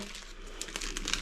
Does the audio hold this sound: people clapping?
no